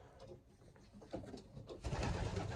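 Racing pigeons in a loft coo softly and repeatedly, the low throaty calls overlapping and swelling louder toward the end, close by with no talking.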